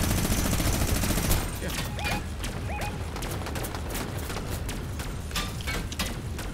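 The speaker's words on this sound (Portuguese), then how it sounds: "Calma aí, que eu tô atirando os malucos aqui" Rapid bursts of gunfire from an airplane in a Fortnite air battle, a dense fusillade at the start thinning into scattered shots, with faint game chimes in between.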